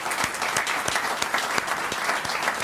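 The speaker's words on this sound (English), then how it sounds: "So if we can give them a round of applause for their investment." Crowd at a riverfront festival announcement applauds its sponsors with steady clapping, individual sharp claps standing out near the front.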